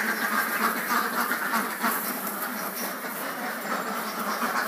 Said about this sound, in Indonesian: Nah ini bebek saya yang 17 tadi